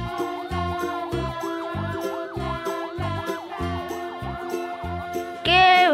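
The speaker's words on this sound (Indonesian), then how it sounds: "di sini ada mobil pemadam kebakaran, teman-teman" An electronic toy fire truck siren wails up and down over a repeating tinny beat, close and bright, ending in a sudden higher-pitched burst.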